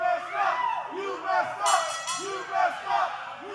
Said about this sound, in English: The crowd here is certainly under the impression that Espinosa has messed up